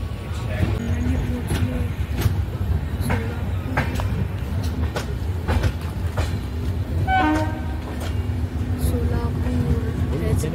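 A train pulls into Solapur station platform with a steady rumble of wheels, clanking cars and brief horn tones, and people talk nearby over the noise.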